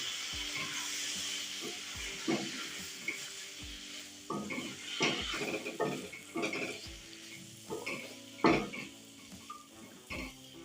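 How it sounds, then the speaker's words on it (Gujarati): Spice masala for ivy gourd and potato curry sizzles and fries in a pan while a spoon stirs and scrapes in uneven bursts, with occasional clinks against the metal. "પાણી નાખીને આપણે બે મિનિટ માટે આ રીતના હલાવશું"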